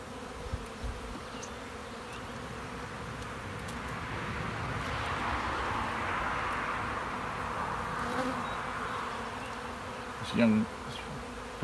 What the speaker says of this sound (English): We're covered with bees.